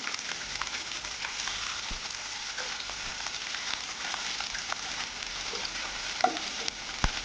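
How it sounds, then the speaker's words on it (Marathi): Hyacinth bean pods frying in half a ladle of oil in a kadhai give a steady, close crackling sizzle with a few sharper pops near the end, and no voices. "कढाईमध्ये तेल टाकलेलं आहे अर्धी पळी त्याच्यामध्ये आपण वालाच्या शेंगा टाकून देणार आहोत"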